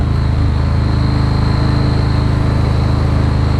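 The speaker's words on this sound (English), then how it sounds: "I think you guys would rather listen to the sound of the motorcycle." A Yamaha Warrior motorcycle engine idles nearby in downtown Savannah with a steady, low, throbbing rumble that holds constant throughout.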